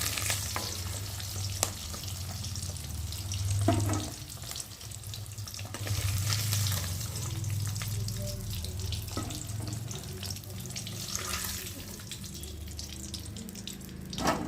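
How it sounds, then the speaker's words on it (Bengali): Eggs fry lightly in hot oil in a pan with a steady, soft sizzle that runs throughout, broken now and then by quiet clinks and stirring. "আমি একটু হালকা করে ভেজে নেব"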